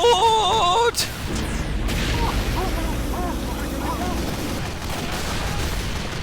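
Gunfire in Team Fortress 2 rattles through a chaotic match, sustained bursts and booms under a game voice and shouting, following a short synthesized chime at the start.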